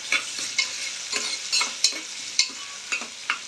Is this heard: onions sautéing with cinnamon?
yes